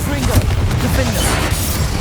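Fire blast spell cast in Hogwarts Legacy, a dense booming burst rolling through a busy combat mix, loud and close with a spoken voice layered on top.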